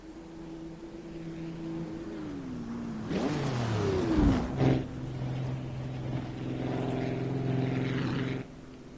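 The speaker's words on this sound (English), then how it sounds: "I'm just watching this car come along the road." A car drives along a country road in the Assetto Corsa racing game on the Northern Pennines mod. Its engine hums steadily, swells and shifts pitch as it passes close by, then settles back into a steady drone before cutting out.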